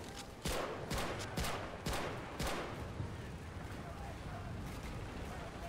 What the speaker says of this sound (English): That mortar, though, pretty good.